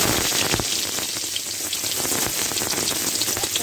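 Chopped onion hits hot oil in a heated kadai and crackles loudly, a dense, rain-like sizzle that holds steady throughout without any talk.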